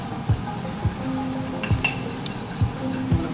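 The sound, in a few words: stirring cornstarch and water slurry in a bowl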